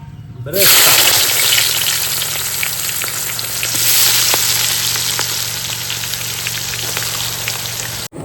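Onions frying in a large pot of hot oil for a goat biryani cooked for a family rice-feeding ceremony, a loud, dense, rain-like sizzle that runs steadily with occasional stirring clinks.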